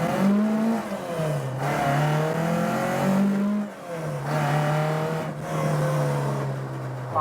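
A car driven hard under load on a wet road, its engine note climbing in several repeated pulls with rising harmonic tones and an extra fault noise that appears only under load, loud and close, with no one talking.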